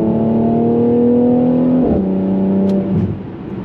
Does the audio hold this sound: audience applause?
no